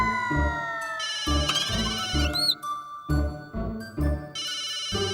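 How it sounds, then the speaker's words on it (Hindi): A phone's electronic ringtone melody repeats in short bursts, mixed with a steady rhythmic backing and background music, fairly loud and close. "टप्पू प्लीज फोन उठाओ यार"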